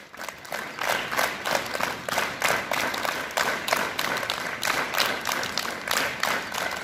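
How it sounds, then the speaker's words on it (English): Students at a school assembly clap their hands together in a steady, rhythmic series of bursts, moderately loud and fairly close, with no talking over it. "clap your hands."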